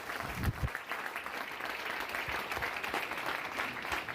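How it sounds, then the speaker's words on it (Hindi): An audience at a Victory Foundation talk applauds Dr. Hemant Ganorkar with steady, sustained clapping at moderate distance, a few sharper claps standing out near the start. "जोरदार तालियां दोस्तों, डॉक्टर हेमंत गनोरकर के लिए।"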